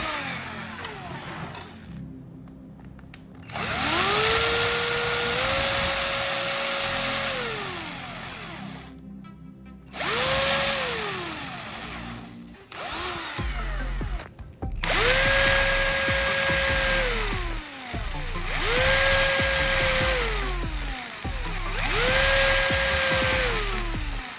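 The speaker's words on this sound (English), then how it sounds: "When the rivet touches the surface, I'll know it's time to stop drilling." Power drill boring a rivet hole with a rivet used as a depth stop on the bit, several loud bursts of whining motor that ramp up, hold and drop off, separated by brief pauses.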